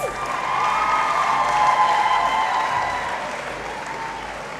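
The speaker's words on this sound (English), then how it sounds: "I think you need to clap yourself really bigger than this." An audience in a university Great Hall applauds graduates at a College of Humanities congregation ceremony, producing a dense, sustained wash of clapping that swells and holds steady for several seconds with a few faint cheers mixed in.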